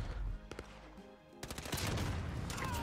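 Gunfire in a Call of Duty: Modern Warfare Gun Game match: a few sharp shots, a brief lull, then a dense stretch of rapid overlapping fire that stays loud to the end.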